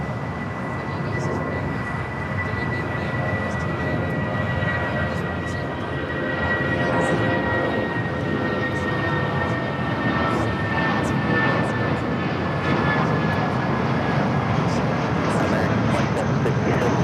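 An Airbus A320 bound for San Francisco takes off at Los Angeles airport, lifting off early, with a loud, steady jet engine roar that holds through the whole clip and a faint voice talking beneath it.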